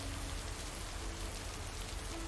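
Steady rain patters on surfaces outdoors by a lake, a dense continuous hiss with no voices over it.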